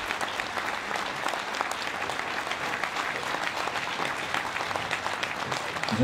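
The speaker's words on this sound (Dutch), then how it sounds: "Mark je wel een applaus" Steady applause from a crowd at the start of a cycling race, honoring a rider, sustained and dense throughout, with a slight swell at the end.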